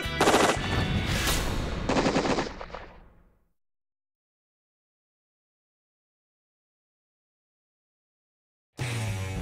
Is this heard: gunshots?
yes